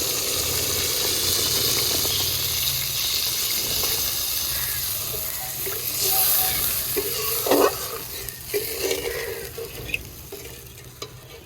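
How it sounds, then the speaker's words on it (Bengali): Water poured into mustard masala frying in oil in a pan: a loud, steady sizzle and hiss that fades into softer bubbling and scattered stirring clinks. "এবারে আমি একটু পরিমাণ মতো জল দিয়ে দিচ্ছি এর মধ্যে"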